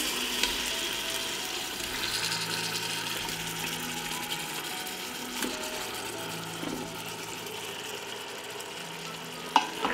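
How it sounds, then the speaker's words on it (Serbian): Soft, steady sizzling of tomatoes frying in hot oil, continuous in the background with a few faint clicks and stirring sounds. "Na zagrejano ulje dodajem paradajz."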